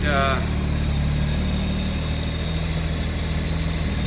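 A rebuilt 1968 Jaguar E-Type engine idles loudly and steadily on a test stand at close range, a constant low rumble with mechanical vibration throughout.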